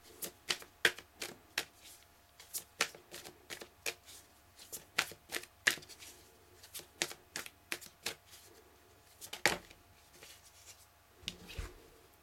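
Tarot cards are shuffled and drawn from a deck, producing a run of crisp, close riffles and slaps in an uneven rhythm, with a few soft handling sounds in between.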